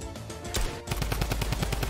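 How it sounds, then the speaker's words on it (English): A video-game drum gun fires at a fast, steady rate, a loud rhythmic string of punchy shots following a brief rumble, with no talking. "the fire rate on this drum gun is cracked"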